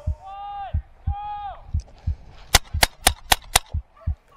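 Paintball gun fire in the Call of Duty Warzone gulag, Dynamic Paintball mode: five sharp, evenly spaced close shots in quick succession, following a couple of honking, goose-like tones.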